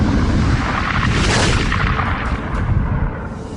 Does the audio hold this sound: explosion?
yes